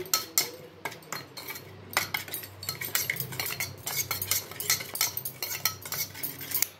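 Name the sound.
stirring oil into an omelette mixture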